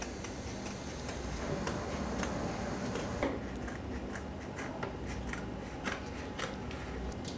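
Scissors snip steadily through a paper pattern for a handmade night lamp, a close run of small crisp cuts ticking along without any talk.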